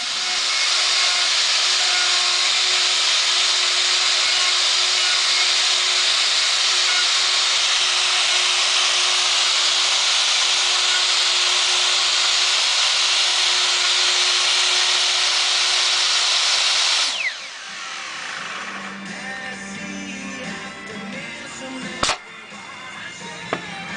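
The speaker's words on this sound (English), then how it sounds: "We're just slightly undercutting the neck socket, and then I'll chisel it out afterwards." A power tool cuts into wood while undercutting the neck socket of a semi-acoustic five-string bass guitar, a loud steady whine and rasp that runs continuously before stopping abruptly, leaving quieter workshop handling noises and a sharp knock.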